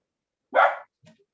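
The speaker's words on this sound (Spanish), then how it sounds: "Yo tengo un perrito ahí que anda ladrando" A small pet dog indoors gives a single sharp, loud bark, followed by a faint short yip, against silence.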